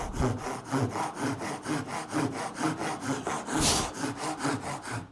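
An Irwin fine tooth hand saw cuts through wood in steady back-and-forth strokes, about two per second, rasping close and clear with no talking.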